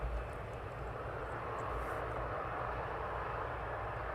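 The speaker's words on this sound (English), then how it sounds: "DHL has just flown over my house, and now you're watching it here, taxiing off" A DHL cargo jet taxiing at East Midlands Airport gives off a steady, close, loud engine roar and rumble that holds evenly throughout with no pauses and no voices.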